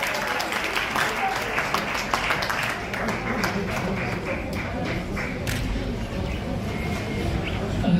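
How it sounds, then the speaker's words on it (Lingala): Sustained applause from an awards-ceremony audience welcoming an honoured woman to the stage, steady dense clapping filling the whole span at even loudness, with faint crowd voices mixed in. "Aidez-moi à accueillir Madame Bellevue Candy. Sous l'applaudissement, s'il vous plaît"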